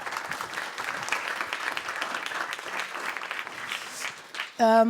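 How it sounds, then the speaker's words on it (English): An audience at an art panel discussion at Villa 102 applauds artist Hamlet Lavastida with sustained, crowded clapping for several seconds. It thins out before a voice starts speaking loudly at the very end. "Please, a big applause for Hamlet Lavastida."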